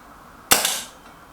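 A Kral NP02 air rifle fires a single pellet, a sharp crisp crack close to the microphone followed by a brief ringing tail, alone in a quiet room.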